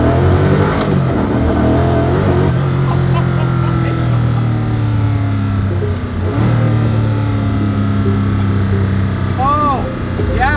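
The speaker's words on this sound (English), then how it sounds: "it accelerates so fast you can't even look at the tachometer or the speedo." A Koenigsegg Agera RS accelerates hard on a straightaway, heard from inside as a loud, dense engine roar that climbs steadily through the gears, with a brief dip near the middle and someone speaking over it.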